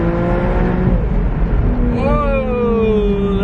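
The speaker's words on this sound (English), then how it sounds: "That exhaust note is amazing." A 2012 Porsche Boxster Spyder in sport exhaust mode pulls on an open road, engine note climbing, dropping at a shift into second, then rising again, loud and close with a voice talking over it.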